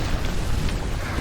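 Ignition Burst finisher in The Strongest Battlegrounds, a dense, loud, roaring explosive blast that fills the whole short moment without pause.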